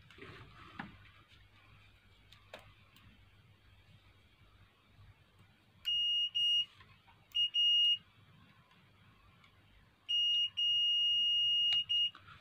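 Multimeter continuity test on drill machine wiring: a faint hum and light handling, then several loud, steady high beeps in short bursts and longer holds, close by with no talking.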